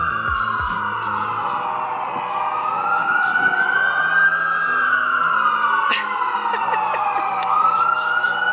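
Several ambulance sirens wail on a snowy Memphis street in freezing weather, rising and falling in long sweeps, fairly loud and continuous, with faint traffic underneath.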